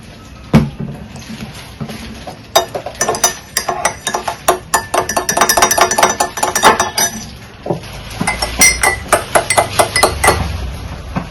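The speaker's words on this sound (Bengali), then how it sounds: "এবার এতে 1 চামচ মধু মিশিয়ে দেবো" Spoon stirring honey into mint tea in a glass, rapid metallic clinks against the glass in quick bursts with short pauses, close and clear, with no talking.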